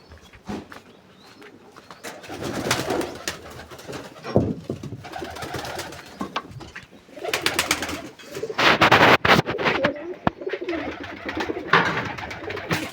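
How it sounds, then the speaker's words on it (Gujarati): Domestic pigeons and their chicks coo in soft, throaty bursts, several birds calling close by with rustling and fluttering between the calls, no one talking. "અને કબૂતર બતાવી દઉં કબૂતરના બચ્ચા કેવડા થયા."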